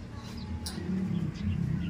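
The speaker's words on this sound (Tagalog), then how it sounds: "Kakauwi lang yung ibon sa kapitbahay." A pigeon returning from a neighbour's yard gives soft, low, throaty coos in a short murmuring run, fairly close, with faint background activity.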